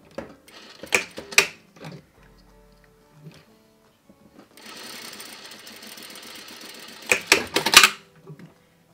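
Sewing machine stitching horsehair braid onto a wedding dress hem, with short bursts of rapid mechanical clatter between pauses and handling clicks, close and moderately loud.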